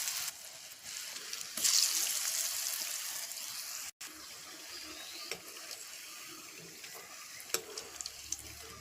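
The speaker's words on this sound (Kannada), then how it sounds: "ಹಲಸಿನಕಾಯಿಯನ್ನು ಈ ಥರ ಹಿಟ್ಟಲ್ಲಿ ಮುಳುಗಿಸಿ ತೆಗೆದು ಎಣ್ಣೆಗೆ ಹಾಕಿ ಚೆನ್ನಾಗಿ ಫ್ರೈ ಮಾಡ್ಕೊಳ್ಳಿ" Tender jackfruit slices dipped in gram flour batter fry in hot oil as bajji. The sizzle is faint, continuous and watery, with a brief louder burst early on and occasional soft clicks. No voices are heard.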